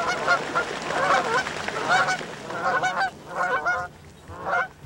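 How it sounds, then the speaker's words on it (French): Canada geese fly over water in Yamaska National Park, honking repeatedly in a series of nasal calls from several birds at moderate distance, with brief pauses between bursts. "Oh, les bernaches en avant, regarde en vol, au-dessus de l'eau."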